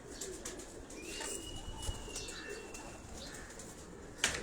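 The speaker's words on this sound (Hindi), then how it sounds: "ये टुकड़ी वाले कबूतर भी होते हैं यहाँ।" Pigeons on a city rooftop in Karachi, soft cooing and a brief flutter of wings amid quiet outdoor ambience, with a sharp click near the end.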